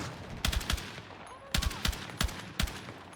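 Bursts of gunfire from the video game Battlefield 6 come in quick clusters of three or four sharp cracks, with short gaps between volleys over a faint background hum.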